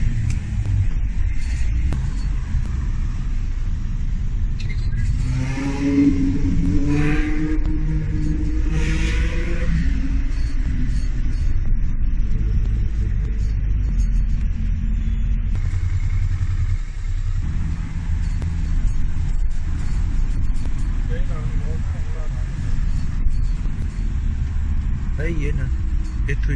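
Busy road traffic in Twickenham town centre, London, a steady low rumble of passing cars with occasional engine revving, continuous and fairly loud, with someone talking over it.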